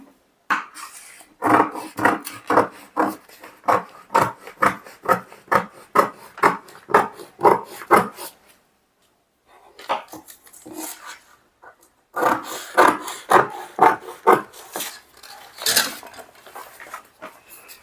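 Scissors cutting through a folded paper sleeve pattern, snipping in a steady rhythm of close, crisp cuts, then a short pause, then more snips in an irregular run.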